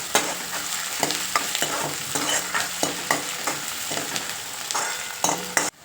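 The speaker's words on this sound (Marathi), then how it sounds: "आता हा कांदा पण चांगला परतून घ्यायचा आहे ब्राऊन कलर येईपर्यंत कांद्याला." Chopped onion sizzles and fries steadily in a pan while a spoon stirs and scrapes it in repeated strokes, close and alone with no voices.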